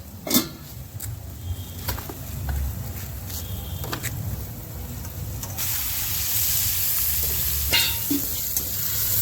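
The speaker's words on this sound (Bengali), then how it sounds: "পিকনিক হচ্ছে, যে বরমশাই রান্না করছেন" Food frying in a pan at an outdoor picnic, a steady sizzling hiss with occasional scrapes and knocks of stirring, louder toward the end, with no talk over it.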